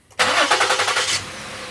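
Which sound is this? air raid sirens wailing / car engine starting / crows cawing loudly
car engine starting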